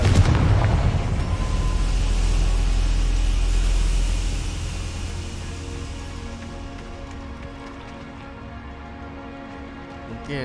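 A Confringo blasting spell in the video game Hogwarts Legacy goes off as a loud, sudden explosion, then fades into a long, rumbling, crackling decay that slowly quiets over several seconds.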